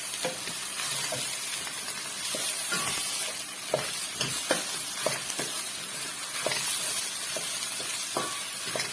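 Okra going into a pot of ogbono soup with onions, giving a steady close sizzle and fry over continuous hiss, broken by sharp scraping stirs and clinks of the spoon against the pot throughout.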